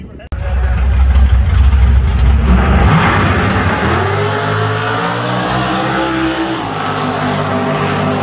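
A Chevrolet Camaro with a Hemi engine at a drag strip revs hard up close, a loud, rough, rising engine roar that then settles into a sustained lower growl with shifting harmonics, with crowd and voices mixed underneath.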